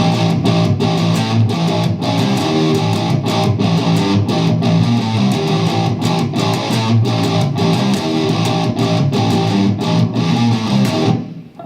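A loud, distorted electric guitar plays a turnaround riff of sharp single-note stabs in a quick, choppy rhythm, ending with a sudden stop.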